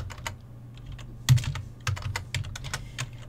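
Someone types a password on a computer keyboard, producing close, crisp keystroke clicks in an uneven rhythm, including a heavier key press partway through, with no voices.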